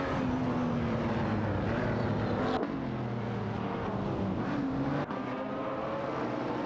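Race cars in a video game, a McLaren 540C and a Lamborghini Murcielago SV, roar with a continuous sustained engine drone whose pitch slides up and down as they shift and accelerate.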